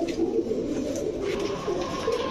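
Pigeons at a Bangladeshi pigeon market, housed in pairs of Indian and other breeds, coo softly in low, repeated murmurs against faint background noise.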